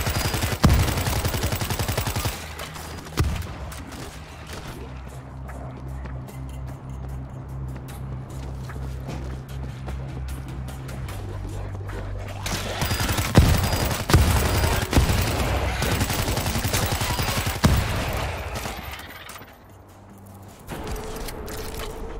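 Sustained bursts of AK47 automatic fire in the zombie shooter World War Z, loud and close, with rapid rattling volleys running through most of the stretch, a brief drop near the end, and game sounds beneath.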